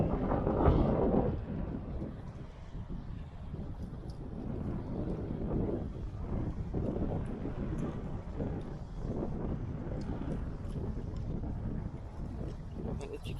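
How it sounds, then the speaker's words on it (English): Strong wind at an outdoor cemetery buffets the microphone with a continuous low roar and rumble that rises and falls in gusts, loudest at the very start. "The wind out here is quite strong"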